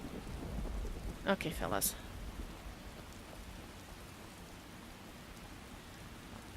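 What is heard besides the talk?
rain in the video game Skyrim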